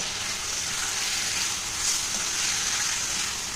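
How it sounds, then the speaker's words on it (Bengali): Masala spices with Kashmiri chili powder sizzling steadily in a hot pan for rohu fish curry, a continuous bright frying hiss with no talking. "এবার মশলাটাকে আবার একটু কষিয়ে নেব"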